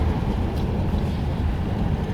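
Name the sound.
1940 Ford Tudor car engine running at idle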